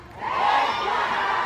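A crowd of supporters shouts and cheers together at a political rally for a special election candidate in Antipolo, a sustained, dense roar that swells early and holds steady without a break.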